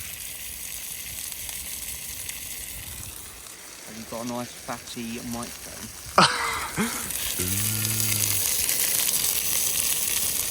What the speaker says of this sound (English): You ready for the sizzle?